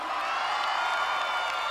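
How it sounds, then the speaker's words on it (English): Studio audience at a Gladiators heat roaring and cheering in a steady, dense wash of crowd noise throughout, with no distinct individual claps standing out. "I think I deserve a round of applause"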